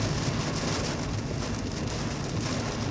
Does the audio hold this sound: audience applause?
no